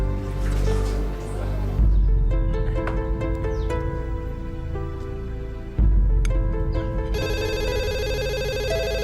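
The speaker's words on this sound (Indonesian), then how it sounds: "Saya terima telepon dulu." A telephone rings in repeated electronic bursts, loud and close, with trilling patterns recurring over music-like background and no talk.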